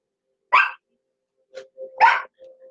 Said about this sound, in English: I apologize for the dogs, folks.